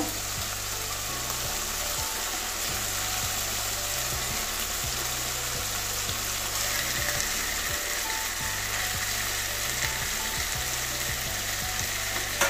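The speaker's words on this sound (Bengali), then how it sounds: "এবারে মাছগুলো কষিয়ে নেব হালকা করে।" Katla fish pieces fry in spiced oil with a continuous, fairly loud sizzle and crackle, joined by a rhythmic mechanical clicking hum that repeats steadily in the background.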